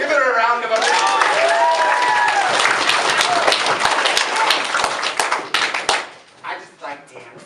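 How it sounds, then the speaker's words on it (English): An audience at a voice acting workshop claps in a round of applause, a dense burst of close and distant hands that trails off, with a voice heard over the start. "Give it a round of applause."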